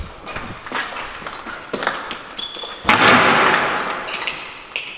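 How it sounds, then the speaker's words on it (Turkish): Heavy door being forced and broken open inside an abandoned hospital, with a run of sharp knocks and thuds, then a loud, sustained crash and rattle of splintering material close by. "Kapıyı harbi kırdı."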